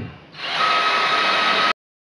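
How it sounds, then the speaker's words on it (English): A power drill drives a 1¼-inch drywall screw into a stud: a short, loud, high-pitched motor whine rises after a brief lead-in, holds steady for over a second, then cuts off abruptly into silence. "Got a couple 1¼-inch drywall screws. Put them right into the studs."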